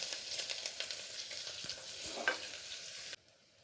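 Sliced big onion fries in oil with biryani spices such as bay leaf, cardamom and cumin, giving a soft, steady sizzle with a few light stirring knocks before it cuts off abruptly.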